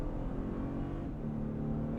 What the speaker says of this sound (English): I am going to brake boost it off the line, build up the revs, let it go.